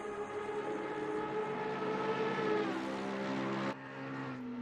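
Aston Martin V12 Vantage GT3 race car in the ACC racing video game, its V12 engine giving a rich, buzzing drone that swells as it passes close by, then drops sharply in pitch and level as it moves away.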